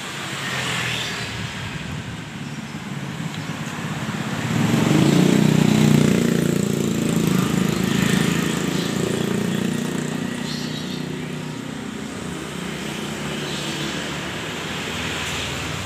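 A 1981 Toyota FJ40 Hardtop with its original 4200 cc petrol engine runs steadily nearby, a low rumble that swells for several seconds midway and then settles back to an even drone, with no talking.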